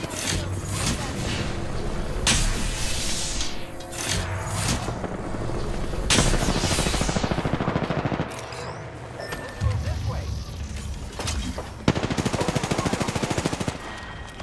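Rapid bursts of gunfire in the battle royale game Apex Legends crackle throughout, with sharp bursts and automatic volleys mixed over music and game effects, and a voice talking at times underneath.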